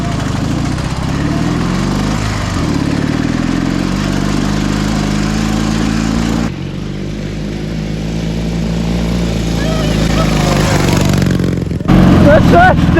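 A Dnepr MT-11 motorcycle on cross tyres churns through a forest swamp, its engine droning loud and steady, dipping briefly midway, then rising sharply near the end.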